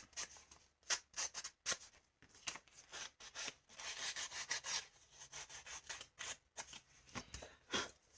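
A clean sponge rubbed over a paper flip book surface, a soft scratchy scrubbing in repeated strokes with brief pauses, close and fairly quiet, with no talking.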